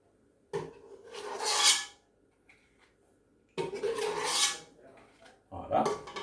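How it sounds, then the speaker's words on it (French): Orange icing is spread over a freshly baked, unmoulded carrot cake, giving soft rasping, scraping strokes in three separate bursts with quiet pauses between them. "Je vais mettre le glaçage à l'orange par-dessus."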